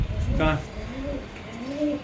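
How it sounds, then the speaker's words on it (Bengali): A high-flying tournament pigeon coos softly in a few low, rounded notes, close by, with a brief voice-like burst near the start. "একটা পায়রা"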